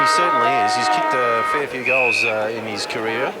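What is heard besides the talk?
No everyday noises stand out.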